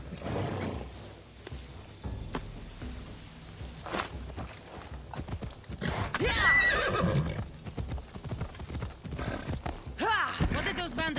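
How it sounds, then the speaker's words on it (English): A horse in the video game Assassin's Creed Odyssey clip-clops and gallops with hoofbeats, whinnies and snorts, while voices talk over the steady gait. "This will be faster on horseback."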